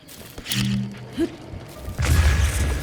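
A bomb blast in Zelda: Breath of the Wild lands as a heavy low boom with a rumbling tail, after a couple of brief mechanical clunks and thumps, with no voices over it.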